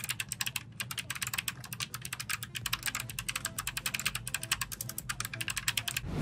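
Fast, steady typing on an MSI Vigor GK50 low-profile TKL mechanical keyboard, crisp close key clicks in a continuous rapid patter with no voices.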